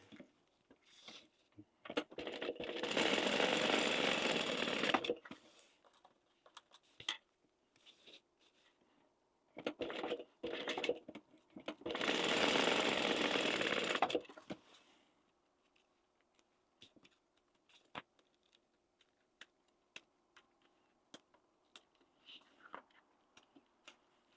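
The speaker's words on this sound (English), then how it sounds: "sew down both of those" Sewing machine stitching down a wallet runs in two long, steady whirring bursts a few seconds each, separated by short stop-start stitches and quiet handling clicks, close and fairly soft.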